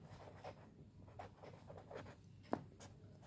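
Pen writing on paper for a commission received entry during a class 11 accounts trial balance lesson, a soft continuous scratching with faint strokes and one brief sharper tap near the end, no talking.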